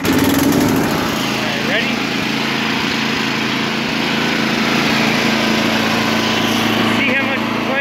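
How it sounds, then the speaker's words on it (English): A small snowblower engine, pull-started with a little choke on a warm day, runs at a steady, buzzing, high-pitched drone, loud and close, with someone speaking briefly at the start. "It's warm, so I got it on half, and we'll give it a tug. And a little bit of choke."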